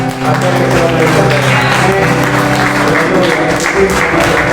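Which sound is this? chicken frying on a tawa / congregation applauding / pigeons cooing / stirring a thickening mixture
congregation applauding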